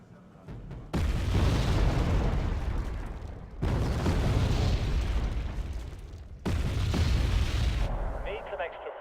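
Artillery units opening fire in the real-time strategy game Wargame: Red Dragon, three long, loud bursts of booming explosions separated by brief quiet gaps, each rolling barrage fading slightly before the next.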